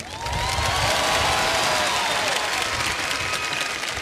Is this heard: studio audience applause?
yes